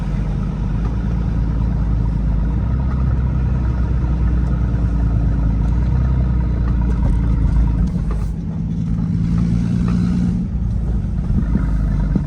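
A big top-mount turbocharged BMW 535i driving at night, its engine droning steadily and loudly throughout with a rising whine and shifting pitch as the turbo builds boost, briefly dipping before pulling again.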